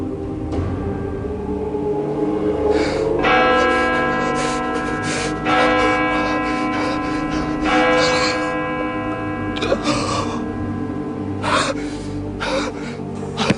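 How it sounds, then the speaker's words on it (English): Bells chime as a signal, several sustained ringing tones that overlap and decay across the stretch, with gasping and breathy sounds from people between strikes. "In a moment, bells will chime."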